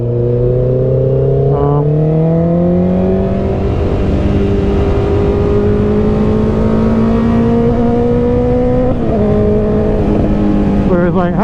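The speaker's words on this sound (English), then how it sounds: "Like the inline 4 it is the iconic bike sound." A 2019 Honda CB650R inline-four motorcycle engine revs from the rider's seat, its rising and falling whine climbing through gears, loud and close with some wind.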